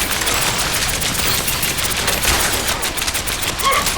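Sustained rapid-fire gunfire from D.Va's mech in Overwatch, a loud, dense and continuous stream of shots that fills the whole stretch alongside other game effects.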